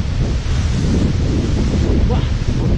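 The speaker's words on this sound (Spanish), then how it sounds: "Acabé de cruzar por atrás de la cascada y es brutal" Cóndor Machay waterfall in Ecuador's Valle de los Chillos roars close at hand in a dense, continuous rush of falling water.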